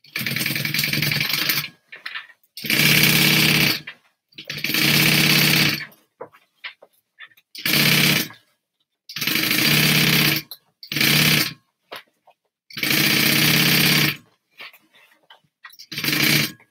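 Sewing machine stitching a satchel shut, running in loud close bursts of rapid mechanical whirring, several long runs and shorter spurts separated by brief pauses, with no talking.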